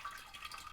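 Brief soft watery trickle as a character drinks from a water filter in a survival video game, quiet and steady.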